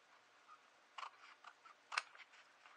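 Scissors snip the corner off a paper envelope during junk journal crafting: a few faint, close, crisp cuts, with one sharper snip standing out among quiet clicks.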